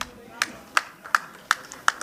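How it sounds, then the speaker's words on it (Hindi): Scattered hands clap at a Sanatani felicitation ceremony in Kolkata, five or six sharp claps in a slow, roughly even rhythm over a faint hall background, without a full crowd ovation. "एक बार जोरदार तालियां।"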